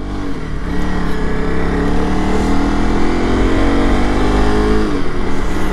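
Honda CRF300L Rally motorcycle engine running steadily while riding on icy, snowy ground, a loud, close, continuous single-cylinder drone with wind noise.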